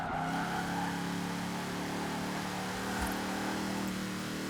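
Engine of a 1270-horsepower racing van driven on open roads in an open-world racing game, a steady loud drone holding through with faint tire noise and no talk.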